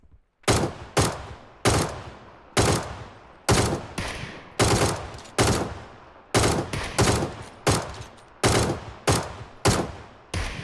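Gunfire in the video game PUBG: loud, close shots fire one after another at a fairly steady rhythm, about a dozen in all, each with a short decaying tail and no talking between them.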